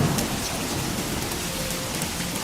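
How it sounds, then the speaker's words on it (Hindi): Heavy rain pours down in a steady, dense hiss with occasional louder patter and a faint low rumble beneath, continuous and alone without any voices. "बारिश तेज हो गई"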